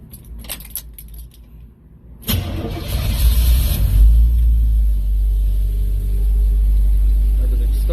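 Keys jingle briefly, then an Oldsmobile 350 Rocket V8 in an S10 pickup cranks and catches with a loud burst, settling into a deep, rumbling idle through the exhaust, close by.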